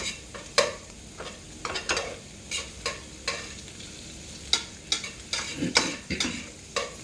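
Beef for Philly cheesesteaks cooking in a pan, with soft sizzling broken by repeated scraping and stirring strokes at an irregular pace, close by, with no talking.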